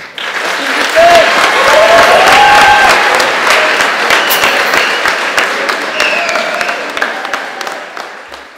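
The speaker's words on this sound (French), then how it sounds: "Donc un tonnerre d'applaudissements pour lui, s'il vous plaît." An audience at a theatre show breaks into loud, sustained applause lasting several seconds, dense clapping from a large crowd with a few voices and cheers mixed in before it gradually thins out.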